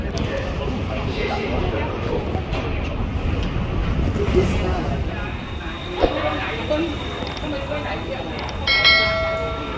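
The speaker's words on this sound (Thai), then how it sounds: "วันนี้เราจะพาทุกคนไปนั่งรถไฟใต้ดินกัน" A subway train rumbling along with a continuous low roar and rattling, people chatting over it, and high chime tones near the end.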